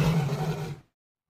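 A lion in an animated children's story lets out a single loud, deep roar that rumbles for under a second and then cuts off sharply into silence.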